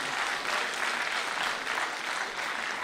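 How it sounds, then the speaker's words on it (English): Audience applause at the official launch of an institute's 60th anniversary logo, dense sustained clapping filling the room at a steady level with no pauses. "Please, let our applause be gender sensitive."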